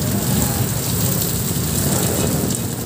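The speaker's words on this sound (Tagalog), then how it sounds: "Lumakas pa yung ulan." Heavy rain pours down on a traffic-jammed road in Marikina City, a steady, dense roar, loud and close, with no pauses throughout.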